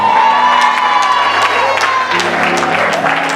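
A crowd at a church celebration for a bishop-elect cheers and claps loudly and steadily throughout, with whoops and shouts rising over the applause and some voices mixed in.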